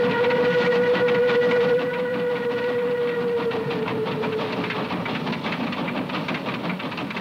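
A big steam locomotive rolling along the rails with a sustained whistle tone over a dense rumbling, clattering roar, loud and close throughout with no talk.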